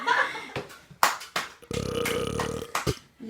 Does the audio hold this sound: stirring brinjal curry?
no